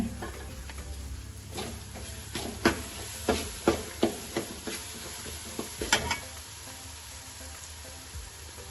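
Green chillies, garlic and ginger fry in a pan for a chicken curry, giving a steady close sizzle broken by a string of sharp scraping stirs and clinks of the spoon through the middle.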